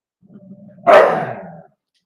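One loud, close dog bark follows a brief low whine, then silence.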